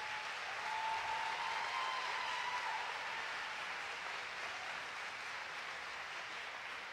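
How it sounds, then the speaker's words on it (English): A crowd at a nursing pinning ceremony gives a steady round of applause for the graduating students, dense clapping holding at an even level for several seconds. "Give these students a nice round of applause."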